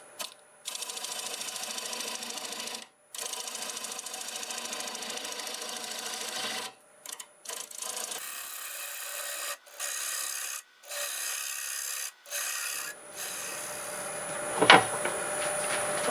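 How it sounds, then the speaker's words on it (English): A wood lathe spinning a bowl at about 820 RPM while a 1/2 inch bowl gouge cuts, a steady rasping hiss in long bursts separated by short pauses, close and fairly loud, ending with a sharper scrape. "Switch to a 1/2 inch bowl gouge for this. And we're still doing about 820 RPM."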